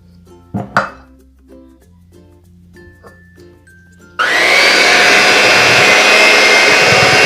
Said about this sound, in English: I'm gonna start by creaming the sugar and the butter.